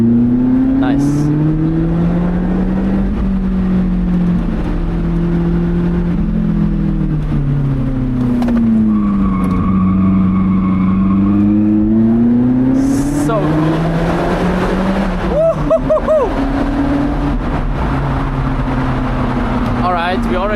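A car drives fast along winding mountain roads on the way to Italy, its engine droning and swelling continuously with revs rising and falling through hard braking and corners, loud and close throughout, with brief bursts of people talking over it.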